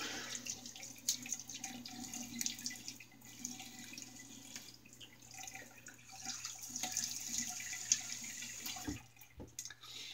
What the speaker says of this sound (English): Let me get a quick rinse here.